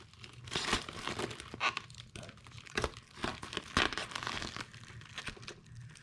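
Plasti Dip rubber coating being peeled off a car emblem gives close, quiet crinkling and tearing rustles in uneven bursts, with no talk.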